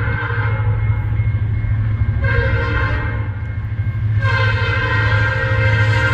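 A CN freight train led by an EMD locomotive with a Nathan P5 horn passes, the horn sounding three loud sustained chords over a steady engine rumble, with a GE Dash 9 locomotive in second position.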